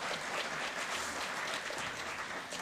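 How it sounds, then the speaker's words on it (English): A brief, fairly faint round of applause from an audience at a redevelopment meeting, steady dense clapping that tapers slightly at the end. "Let's give them a round of applause."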